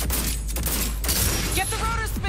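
Gunfire at cables in the video game Cyberpunk 2077, rapid loud shots running through the clip amid game noise, with voices speaking over it.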